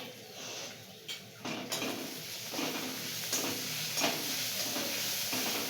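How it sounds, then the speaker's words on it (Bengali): Onions fry and sizzle in a pan for a double masala potato dish, with a spoon stirring and scraping against the metal in irregular knocks over a continuous hiss, close by. "পেঁয়াজটা খুব ভালোভাবে মা নাড়ছে একটু সময় ধরে পেঁয়াজটা নাড়তে হবে"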